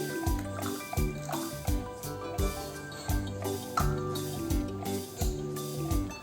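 Liquid coffee is poured into cake batter with a spoon working through it, giving a repeated rhythm of wet plops, sloshes and trickles, close and fairly loud, with no talking.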